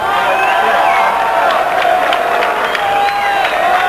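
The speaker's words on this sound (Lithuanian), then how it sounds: "Žiūrovai plojimais palydi" Spectators at a football match between Panevėžys Ekranas and Marijampolė Žydrius applaud and murmur as a steady crowd wash, with faint scattered claps and whistling tones drifting over it.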